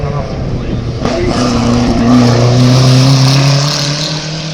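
Hill climb race car at the Bagnols-Sabran course, a light 720 kg machine, with a loud sustained engine note that rises steadily as it launches, close and dominant, while a commentator talks over it.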